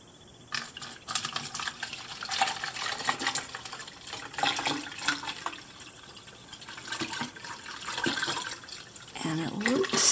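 Water is poured into a Barbie color reveal toy, a continuous splashing and trickling stream that rises and falls in intensity, with a person talking over it.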